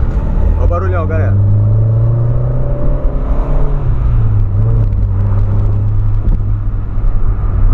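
A loud, rumbling Volkswagen Polo engine and exhaust drone steadily, still cold, with a voice talking over it near the start.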